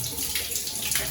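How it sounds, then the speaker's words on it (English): Water running steadily from a shower mixer tap fed by a 30-litre heater in a Singapore HDB flat, a continuous close hiss and splash with no talk. "the water is still coming out"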